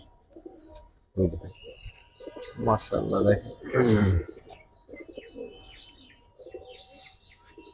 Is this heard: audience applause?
no